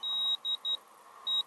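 A DJI drone emits four clear, fairly loud electronic beeps, three in quick succession and one after a short pause, over a faint steady hum while it returns to home.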